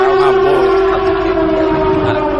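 A loud siren wails continuously, its steady tone dominating the whole short stretch with no voices.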